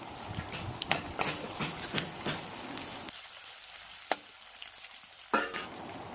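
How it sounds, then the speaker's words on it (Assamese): Onions frying in hot oil in a wok with cinnamon, for an Indian chana dal curry: a steady sizzle broken by sharp stir and scrape clicks, briefly quieter midway before resuming. "পিঁয়াজকেইটা অকণমান ভাজি ল'ম।"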